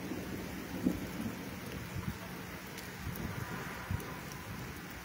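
Heavy rain pours over Santa Bárbara d'Oeste in the late afternoon, a faint, steady wash with soft low rumbles of thunder and the odd drop tapping nearby.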